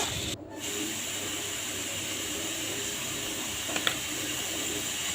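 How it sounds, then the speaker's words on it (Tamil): Onions sauté with salt in a pan for cauliflower poriyal, giving a steady broad sizzling hiss that holds close and even throughout, with a faint clink near the end. "இப்போ நல்லா வெங்காயத்தை வதக்கி விடுங்க."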